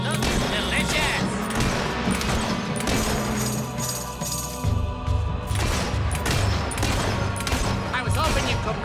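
Gunfire and crashing blasts in the Fable 3 video game, a dense continuous volley of shots mixed with game music and effects, loud throughout with voices talking over parts of it.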